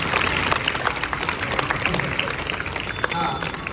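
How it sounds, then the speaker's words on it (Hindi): An audience at a government school claps together in a dense, continuous burst of applause, with crowd noise and voices mixed in throughout. "ताली बजा दो ना।"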